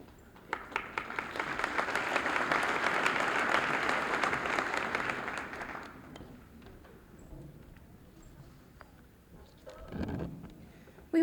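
Audience applause at a 1994 high school senior assembly, a broad wash of clapping that swells for about five seconds, then fades to a quiet hall with scattered claps and a brief murmur near the end.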